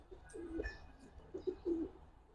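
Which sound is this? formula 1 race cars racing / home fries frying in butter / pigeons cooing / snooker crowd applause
pigeons cooing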